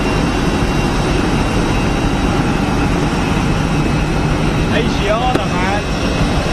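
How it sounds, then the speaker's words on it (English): Asiana Boeing 747 freighter jet taxiing at Brussels Airport, a steady broad engine roar and whine holding constant under ongoing talk, with a faint rising whistle near the end. "747 Asiana freighter coming out now."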